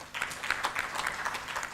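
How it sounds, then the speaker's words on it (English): A seated audience claps for a panel at a counselling open day, a faint, scattered patter of hands from a modest crowd with individual claps poking through, with no talk over it. "Clap for them."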